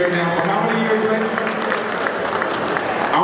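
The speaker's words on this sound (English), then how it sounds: "Let's give him a round of applause." A crowd at an Africa Day event in Houston claps and cheers steadily for the mayor, dense applause filling the room with a voice partly audible underneath.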